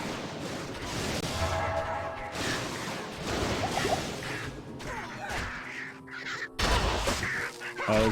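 Crows caw in a Diablo II game scene, harsh repeated calls mixed with whooshing spell and combat effects, fairly faint and without talk.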